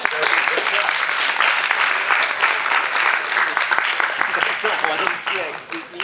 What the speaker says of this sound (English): Big round of applause for Derek and Victor.